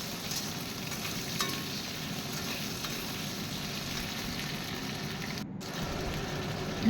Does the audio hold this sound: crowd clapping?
no